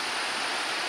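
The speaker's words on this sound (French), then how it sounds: "on entend bien la cascade d'ici." A waterfall heard from a rocky hiking trail as it gets close: a dense, steady roar of falling water, loud and unbroken with no voices.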